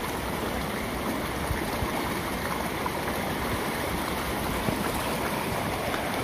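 Steady broadband rush of a river flowing past rice fields near a railway line, a continuous close, even wash of moving water with no voices.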